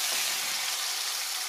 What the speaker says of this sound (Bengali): টমেটোগুলো অল্প ভেজে নেব।